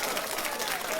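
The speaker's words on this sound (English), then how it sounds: "a round of applause to John Legend for not being a coward" Studio audience applauding, a brief dense burst of clapping at steady loudness.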